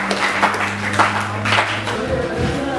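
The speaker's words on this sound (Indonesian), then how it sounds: "Kita kasih aplaus." A classroom group claps for a presentation, brief scattered applause at close range with a steady hum beneath it.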